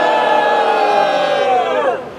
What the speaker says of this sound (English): Let's give a big Bronx cheer for Madison Realty Capital.